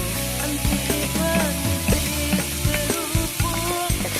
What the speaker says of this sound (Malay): Kasih tumis dia sampai garing tu.